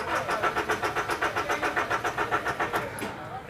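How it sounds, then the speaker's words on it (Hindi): A car starter motor cranks rapidly in an even, pulsing rhythm, about six strokes a second, close and loud, while the engine with its check engine light on fails to catch before the cranking stops. "सेल्फ लग रहा है लेकिन गाड़ी स्टार्ट नहीं हो रही है"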